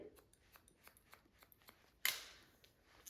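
Scissors point-cutting hair for a spiky haircut: a light, steady series of small close snips, then one sharper, louder crisp snip with a fading rasp, all faint and with no talking.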